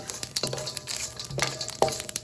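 A cinnamon stick, star anise, black cardamoms and a bay leaf frying in hot oil with mustard seeds, a quiet sizzle broken by brief stirring scrapes and a light clink.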